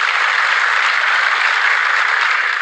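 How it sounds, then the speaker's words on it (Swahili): A crowd claps at a presidential speech during a meeting, producing a steady, dense wash of applause that stays at an even loudness throughout, with no voices over it. "pigeni makofi."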